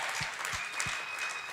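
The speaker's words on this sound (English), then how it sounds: "Big round of applause." A short burst of audience applause at a community gathering, continuous crowded clapping with a few deeper thumps near the front, steady and fairly loud throughout.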